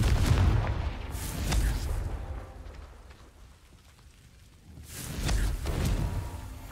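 A Confringo fire spell explodes in the Hogwarts Legacy video game, heard as heavy, rumbling booms at the start and again near the end, with a quieter stretch in between.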